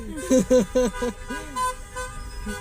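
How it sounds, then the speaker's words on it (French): Several short car horn toots in quick succession, then a couple more honks, over a low rumble of traffic. "Mais les gens ils klaxonnent"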